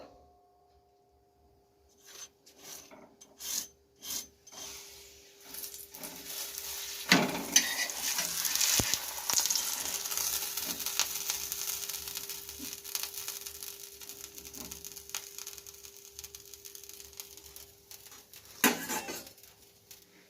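Bhature frying in white oil in a home kitchen, with bursts of hissing sizzle building after a few seconds of near silence, punctuated by clinks of a utensil against the pan, then settling into a steady crackle.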